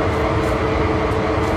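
Loud, constant broadband roar of a CSX diesel locomotive in Train Sim World, a dense steady engine drone with no talking.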